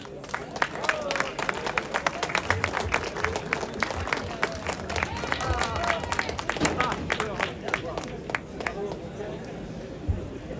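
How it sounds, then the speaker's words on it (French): An audience at an enduro 50th anniversary gathering in Langeac applauds steadily for about ten seconds, dense clapping with crowd murmur and an announcer's voice heard over it. "Je vous demande d'applaudir"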